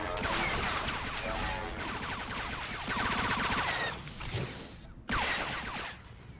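Sweeping blaster gunfire in Star Wars: The Old Republic, dense rapid bursts of shots with crashing impacts and mechanical clatter, loud and continuous with short breaks.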